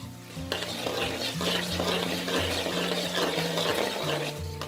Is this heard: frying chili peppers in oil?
yes